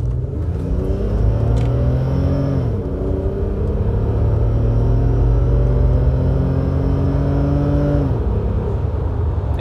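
A BMW car engine with a loud, rumbling exhaust revs up and down repeatedly, rising pitch sweeps then dropping, close and steady throughout.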